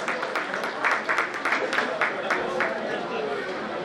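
Audience applause for a student at a prize-giving function, a steady wash of many hands clapping with crowd chatter mixed in, fairly loud and continuous throughout.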